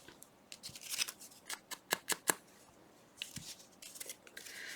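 Scissors snipping a paper figure out of lightweight cardstock, a series of sharp close crisp cuts in quick irregular bursts with short pauses between them.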